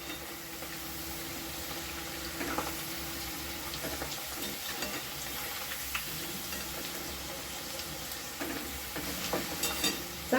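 Okra pieces frying in hot, well-bubbling oil with a steady close sizzle and bubbling, stirred now and then with a slotted spoon, scraping clinks breaking through, no voices.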